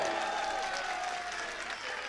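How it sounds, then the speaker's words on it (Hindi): Audience applause at a poetry recital, a steady wash of clapping from a gathered crowd sustained evenly and fairly faint throughout, with no speech over it. "तालियां बजानी हो तो एक बार पूरा मजमा जोरदार तालियां बजाए"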